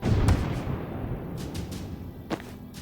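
A Gale Grenade going off in Tactical Breach Wizards, a deep muffled blast at the start that rumbles and fades, followed by a couple of lighter thuds.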